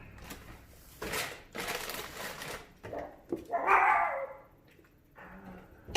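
A pet dog barks a few times indoors during a home grocery unpacking, with loud bursts spread across the clip and a sharper yelp near the end, no talk over it.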